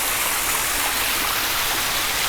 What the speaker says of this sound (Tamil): ஏன்னா அவ்வளோ பெய்யுது, அவ்வளோ தண்ணி